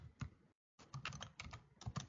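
Fast, quiet keystrokes clatter on a computer keyboard while commands are entered in a Linux terminal, with a short silent pause before a steady run of close, light taps.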